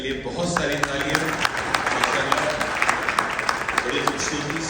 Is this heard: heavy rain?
no